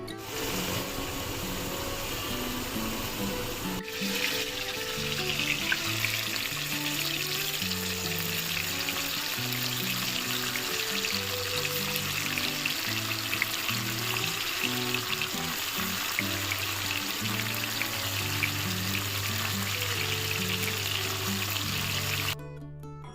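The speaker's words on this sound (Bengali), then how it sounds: "কড়াই বসিয়ে দিয়েছি, এবার এগুলো প্রথমে আলুটা ভেজে নেব।" Potatoes fry in oil in a wok on a home stove, producing a continuous, even sizzle for the whole stretch, with a low tonal hum beneath and a brief dip partway through.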